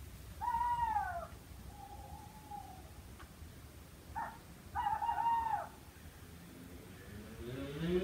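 Several owl-like hoots and wavering calls sound in separate short phrases, fairly faint, with gaps of quiet between them and a rising tone near the end.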